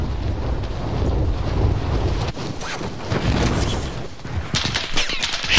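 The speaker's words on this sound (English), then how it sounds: "Shit, dude, I'm getting shot at over here." Gunfire in a battle royale video game, bursts of shots with a rapid crackling flurry near the end, heard over gusty wind-like rumble, fairly loud, no talking.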